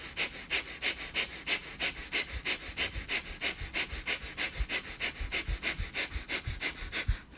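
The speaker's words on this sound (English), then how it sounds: "that pumping of the exhale that we did, that breath of fire" Rapid, forceful nasal exhales of breath of fire pranayama, about three pumps per second in an even, driving rhythm, close and continuous with no voice.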